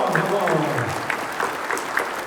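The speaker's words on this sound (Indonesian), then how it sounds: "Tepuk tangan dong, semua dong." An audience at a property sales seminar claps steadily together, a dense wash of applause with a voice faintly mixed in.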